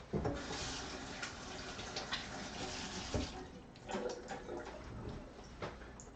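Running tap water splashes steadily over hands being rinsed at a kitchen sink during taco preparation with beef tongue, a continuous close wash with small bursts of splashing and no talk.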